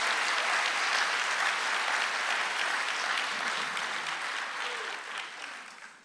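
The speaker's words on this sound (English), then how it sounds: "Clap your hands one more time for the King of Kings." A church congregation at a service applauds steadily and loudly for several seconds, the dense clapping slowly fading toward the end.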